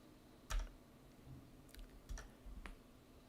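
Someone types on a computer keyboard while entering math notation in Mathematica: a few sparse, faint clicks and keystrokes with pauses between them in a quiet room.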